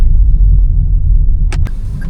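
Steady low rumble of cars idling and creeping in a rainy traffic jam, with a couple of brief hissing splashes or passing tyre sprays near the end; no voices.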